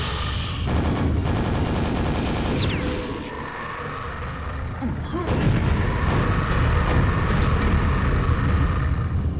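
Overpowered weapons in classic Quake blasting at an expansion mini-boss, loud, dense bursts of gunfire and booming impacts with a brief lull midway.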